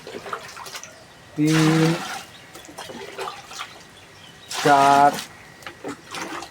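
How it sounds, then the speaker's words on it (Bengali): Water, five litres in total, poured into a container holding jaggery for a homemade fish fertilizer, heard as two brief splashing pours separated by a pause while someone talks and counts. "এই 5 লিটার জল এখানে দিয়ে দেওয়া হলো"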